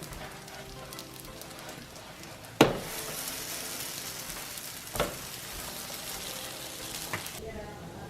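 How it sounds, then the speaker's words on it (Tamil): Parotta fries on a hot griddle stone, a continuous hiss and crackle with a sharp slap and a louder burst partway through and another smaller knock later, while a voice speaks over it. "ஓரளவு ஸ்ப்ரெட் பண்ணிட்டு சூடாக இருக்கிற அந்த கல்லில் போட்டாச்சு"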